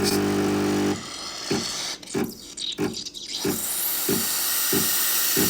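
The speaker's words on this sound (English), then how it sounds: "first I'm just going to do a little purge just to avoid getting too much wet steam" A Miicoffee Apex V2 espresso machine steam wand purges with a loud, close rush of hissing steam, followed by a rhythmic pulsing from the machine as the hiss continues.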